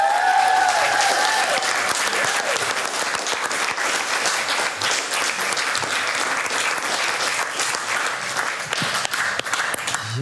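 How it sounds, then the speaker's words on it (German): Sustained, dense applause from a live audience at a German song battle stage show, loud and steady throughout, with faint voices mixed into the clapping. "Applaus bitte!"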